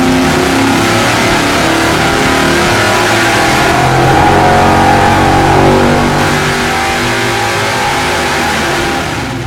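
Loud, sustained roar of a Dart top-end V8 engine pulling on a dyno on nitrous and race gas, a steady high-power drone that swells slightly midway and holds throughout, close up.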